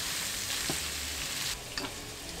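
Pressure-cooked shredded beef for ropa vieja frying in a pan until crisp, giving a steady close sizzle with a couple of brief stirring clicks and no talking.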